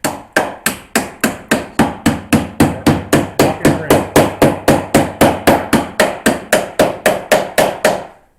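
A body hammer pounds a car fender's rim edge in quick, steady blows, about three per second, each a loud, close metallic strike with short ringing decay and no talk.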